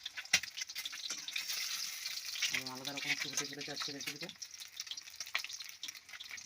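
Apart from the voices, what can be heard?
egg frying and being stirred in a pan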